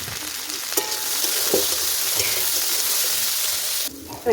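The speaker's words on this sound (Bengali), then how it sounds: "ফুলকপিটা ভাজা হয়ে গেছে, তুলে নেবো।" Cauliflower florets with salt and turmeric fry in hot oil in a pan, a loud, steady sizzle with a few clinks of a stirring utensil, cutting off near the end.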